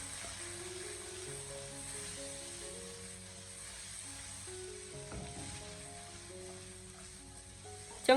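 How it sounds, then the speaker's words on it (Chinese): Blanched green beans and pork stir-fry in a wok with a soft, continuous sizzle under gentle background music, ending in a sharp clatter. "将豆角和猪肉翻炒均匀"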